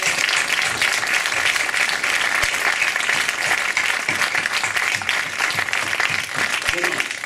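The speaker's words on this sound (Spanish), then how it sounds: "pido a tothom un aplaudiment" An audience at a water-themed forum applauds, a dense and steady round of clapping that lasts throughout and stays loud and even.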